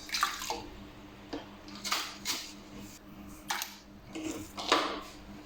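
Water splashing and pouring in uneven bursts into a cooking pot while making Balochi chicken tikka karahi, about a litre added, with light clinks of metal between pours and no talk.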